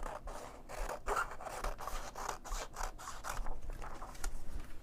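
Scissors trim the margin off a paper sewing pattern page, close up. They make a steady run of quick crisp snips and rustles of paper that repeat evenly for several seconds with no talking.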